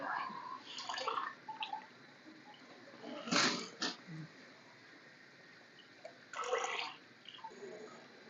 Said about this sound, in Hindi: मैं इसके अंदर चावल डालूंगी।